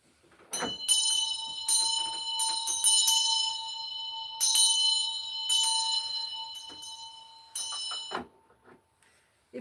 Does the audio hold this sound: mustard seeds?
no